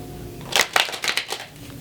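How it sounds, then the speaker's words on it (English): Tarot cards are riffled and bridged in a few quick crisp bursts, close and fairly soft, over a quiet room with no talking. "it's also really comforting to just sit and shuffle my cards"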